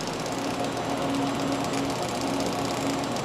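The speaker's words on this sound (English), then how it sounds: "You can keep welding from root to cap." TIG root and MIG cap welding on a Redi2Weld system gives a steady, dense buzzing crackle, continuous and fairly close with no pauses.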